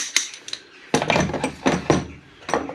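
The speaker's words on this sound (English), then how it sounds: "We've got a slide hammer" A few sharp metallic knocks and clunks of a slide hammer, irregularly spaced, close by with no voices.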